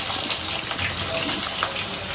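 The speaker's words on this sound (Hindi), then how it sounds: "प्याज को फ्राई करेंगे।" Onions frying in a pan for mutton korma, a steady, dense sizzle and hiss that continues evenly throughout, close and fairly loud, with no talk over it.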